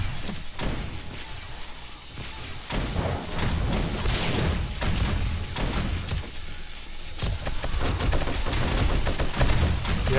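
An automated gun turret in 7 Days to Die firing at zombies, with sustained rapid volleys of sharp shots and a few brief pauses, loud and close with no talking.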